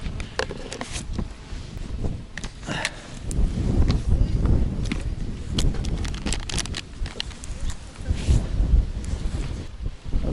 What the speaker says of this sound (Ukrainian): Оце вітер, оце да.